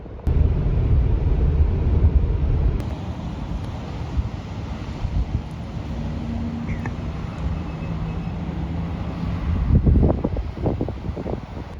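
Wind gusting around a parked car in the Texas summer heat, a low rumbling buffet against the microphone that rises and falls, with brief knocks near the end.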